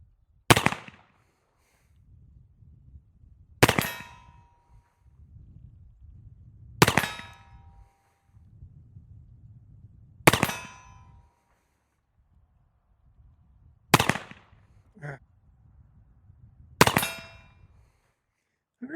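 Six loud, sharp gunshots ring out at intervals of roughly three seconds from a silver Remington Sheriff Model revolver with a 5.5-inch barrel. Each crack is followed by a brief echo, and quiet low rumbling fills the gaps.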